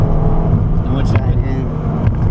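A car engine on light throttle during an autocross slalom, a steady low drone heard close and loud beneath someone talking.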